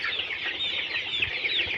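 Two thousand Colorbird chickens, thirty days old, fill a poultry shed with a dense, continuous chorus of high clucking and chirping from the whole flock close by, with no voices.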